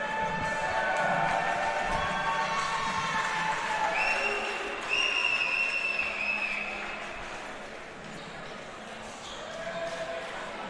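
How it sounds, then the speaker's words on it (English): A crowd at a men's college basketball game between SWU and Young Harris applauds and cheers at a distance, a moderately loud, continuous wash of noise with whistle-like tones and squeaks over it. "All you can do is applaud."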